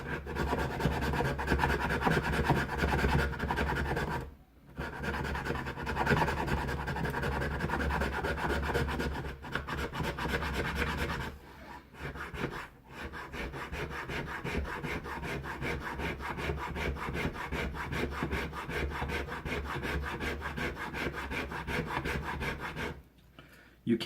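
A Condor Bushlore camp knife shaves fine curls from a piece of wood, a steady close rasping scrape that carries on for long stretches, broken by a few brief pauses. No talking is heard.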